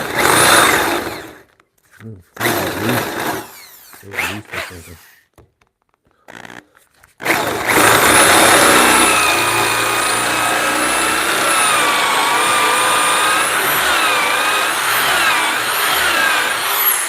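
Forstner bit boring into wood for a mortise and tenon bunk bed, choppy bursts of drilling that cut in and out, then a loud continuous grinding whine with a jumping, uneven tone.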